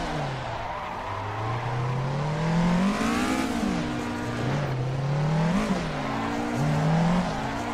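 Toyota Corolla and Supra race in Assetto Corsa, their engines revving up and down with wavering pitch, close and loud, with tire squeal in a continuous run of acceleration and drifting.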